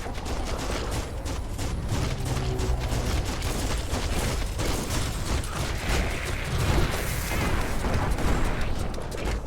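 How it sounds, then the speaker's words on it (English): Constant gunfire in Biomutant combat, a dense clattering barrage of rapid shots and mechanical impacts that stays loud and unbroken from start to finish. "Bullets everywhere."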